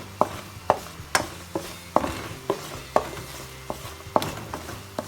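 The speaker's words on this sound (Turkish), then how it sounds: "İlk önce unla yağ güzelce kavuruyorum gördüğünüz gibi." Flour toasting in oil in a pan for béchamel sauce, heard as a steady series of sharp utensil scrapes and taps against the pan, roughly one or two per second, close and fairly loud over a faint background.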